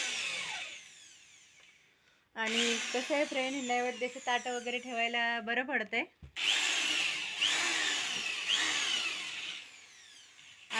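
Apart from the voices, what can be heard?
electric drill running while making wooden stools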